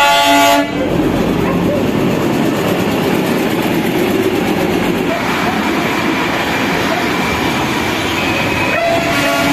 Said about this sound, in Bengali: এই কিছুক্ষণ আগে একটা টয় ট্রেন গেল।